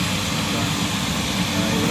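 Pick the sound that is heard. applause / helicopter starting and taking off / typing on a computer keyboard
helicopter starting and taking off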